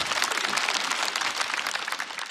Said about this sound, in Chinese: 可以鼓掌，可以鼓掌啊